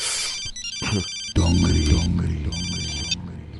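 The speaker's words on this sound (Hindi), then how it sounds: "मंत्री जी का फोन है।" A telephone rings with a bright electronic ringtone in a Hindi film scene, one burst at the start and another near the end, with low rumbling music and background sound between and under it.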